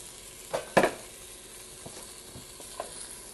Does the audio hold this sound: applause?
no